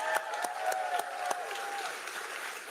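A crowd at a campaign event in Grand Rapids, Michigan claps at moderate distance, a thin steady patter with a few sharper claps and some voices underneath.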